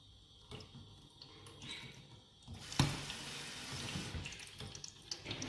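Tap water runs into a water filter in a home kitchen, a steady close hiss and splash that swells louder midway and keeps flowing alone to the end.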